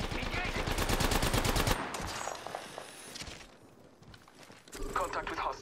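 Rapid automatic gunfire in the video game Apex rattles loudly in a sustained burst, then drops away to quieter scattered shots and movement, while a voice talks over the action.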